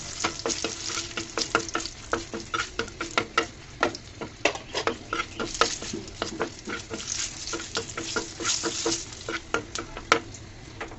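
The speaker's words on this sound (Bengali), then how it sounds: "শুকনো মরিচটাকেও লাল লাল করে ভেজে নিব" Dried red chillies fry in oil for a thankuni leaf bhorta, crackling and popping in dense, irregular bursts over a constant hiss, close and without any talking.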